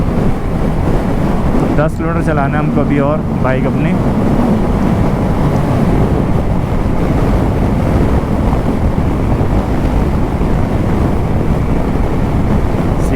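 Strong wind roars across an open road near Nyoma in Ladakh, buffeting the microphone in a constant loud rush while someone speaks briefly over it early on.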